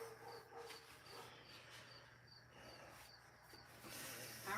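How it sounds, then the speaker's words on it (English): Crickets chirp faintly at night in repeated short pulses, with a low steady hum underneath and no talking. "chirping crickets."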